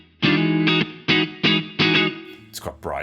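An electric guitar runs through a Two Notes Genome on its bright Cathedral reverb preset: five loud, distorted chord stabs in a steady rhythm, each with a brief ringing tail, then a quick squealing slide at the end.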